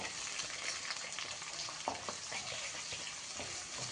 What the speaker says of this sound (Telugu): ఉల్లిపాయలు, పచ్చిమిర్చి వేసుకొని కొంచెం కలిపేయాలి